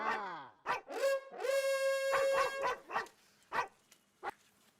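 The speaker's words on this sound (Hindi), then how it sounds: "ये कुत्ता नहीं, मेरे मोबाइल की रिंगटोन बज रही है" A mobile phone ringtone plays a recorded barking dog: several loud, close barks and yelps with a howling, whining tone in between, sounding alone.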